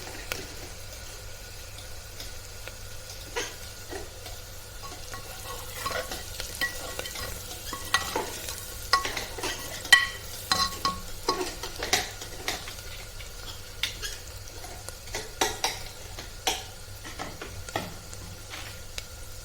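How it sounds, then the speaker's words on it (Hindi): Ground coriander, cumin, chili powder and turmeric fry with onions in a pan, giving a steady soft sizzle with repeated scraping stir clicks and taps that grow busier midway, close up with no talking. "इसमें धनिया, जीरा और मिर्ची पाउडर, हल्दी हमने डाल दिया है। प्याज के साथ ये भून जाएंगे।"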